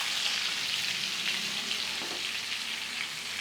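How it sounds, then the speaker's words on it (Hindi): Chicken pieces fry in mustard oil over a high flame, giving a steady, close, bright sizzle with soft crackling and faint stirring, alone and without talk. "सारे चिकन के पीसेस को पलटा देंगे और दूसरी तरफ भी इसी तरह से फ्लेम हाई करके पकाएंगे"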